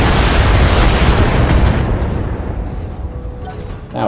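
Weapon volley fire in the Battletech mech video game: a loud, sustained roar of blasts and booming impacts that fills the whole stretch, tapering slightly toward the end.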